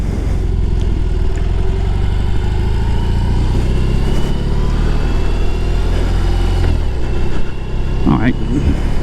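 A BMW R18 motorcycle engine runs at a steady low idle close by, a dense rumble holding evenly for about nine seconds with a brief dip and shift near the end.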